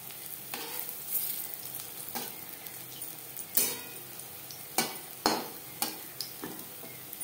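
Green banana kofta balls fry in hot oil with a soft, continuous sizzle. Several sharp utensil clinks and scrapes of turning break through at irregular intervals, and no one talks.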